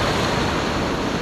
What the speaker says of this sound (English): I don't have to worry about these waves pushing me back, because it's just going to push me into the shallows on the weeds